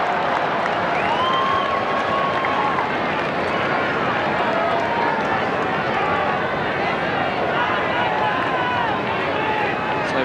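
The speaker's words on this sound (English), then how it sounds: "So a very enthusiastic crowd at Subiaco" A large, enthusiastic crowd roars steadily at Subiaco Oval during a 1997 AFL match between Fremantle and St Kilda, the continuous cheering and whistles filling the air beneath a commentator's voice.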